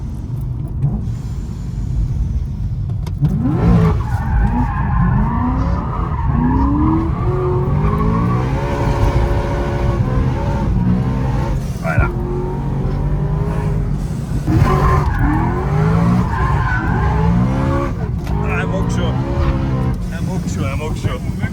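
750HP BMW E90 M3 driven hard on mountain roads, a loud engine rising and falling through revs with tire squeal throughout, heard from inside the car while people talk.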